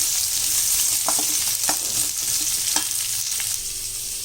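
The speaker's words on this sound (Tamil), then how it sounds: "கறிவேப்பிலை, இதை நல்லா வதக்கிடணும்." Curry leaves sautéing in hot oil in a pan for a Tamil mor kulambu, a steady close sizzle with a few sharper crackles and pops, no voices.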